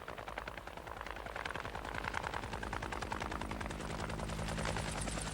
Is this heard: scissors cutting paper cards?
no